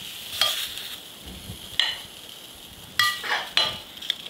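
Shell-on shrimp searing in a pan with a constant light sizzle, broken by several sharp metallic clinks and scrapes of a utensil against the pan, heard up close without talk.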